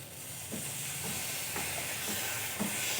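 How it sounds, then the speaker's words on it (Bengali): Kochur loti (taro stolons) cooking with spices in a pan as water goes in, giving a steady close hiss and sizzle of steam with a few soft knocks from stirring. "এখন আমি কিছুটা জল দিয়ে দেব।"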